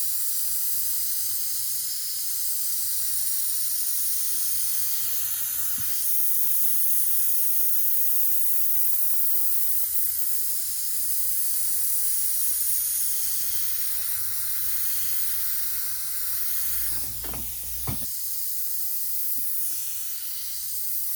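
An airbrush sprays green paint in a steady, close hiss that runs unbroken for about twenty seconds, with a couple of faint knocks near the end and no voices.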